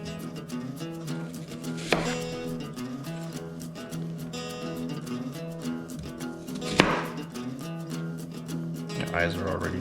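A knife taps repeatedly against a cutting board while an onion is chopped for pot roast, with sharper strikes now and then, heard close beneath someone talking.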